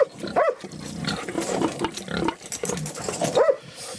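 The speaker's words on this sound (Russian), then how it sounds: "хрюшки, свинюшки." Hungarian Mangalica pigs with newborn piglets grunt and squeal in close, busy bursts, overlapping snorts and higher piglet squeaks filling the whole stretch with no talk.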